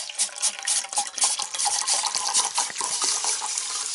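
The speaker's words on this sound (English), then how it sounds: "I'm going to put some water in here" Water poured into a metal canteen cup outdoors, a continuous splashing, gurgling pour with small fluctuations, close and fairly loud, with no talk.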